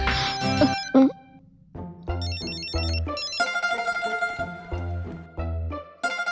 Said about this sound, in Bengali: ছোট কর্তার ফোন আসছে মনে হচ্ছে।